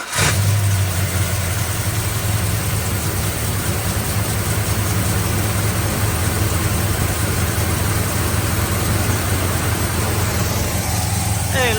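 A Plymouth Barracuda's engine cranks and catches, then settles into a loud, steady idle that runs without a break, a constant throaty rumble close to the listener.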